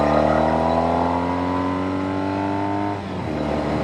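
A Norton Commando 850 motorcycle engine revs high and smooth, its pitch climbing steadily in a loud, continuous whine before easing off near the end.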